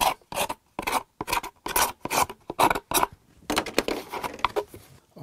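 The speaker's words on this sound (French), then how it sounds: "j'ébarbe la coupe avec le dos d'une lame de cutter" The back of a utility knife blade scraping burrs off the cut edge of a PVC gutter, a series of about ten quick rasping strokes in a steady rhythm, then a looser run of shorter scrapes.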